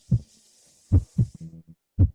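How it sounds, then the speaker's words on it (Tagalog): Rapid heartbeat sound effect: paired low thumps repeating quickly and close, alone with no talk. "Bakit ang pula-pula ng mukha ko? Ang bilis ng tibok ng puso ko."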